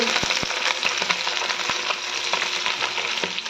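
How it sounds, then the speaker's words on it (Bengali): Fish frying in a pan, giving a loud, dense sizzle with steady crackling and scattered sharp pops throughout. "এই যে মাছগুলো ভাজছে"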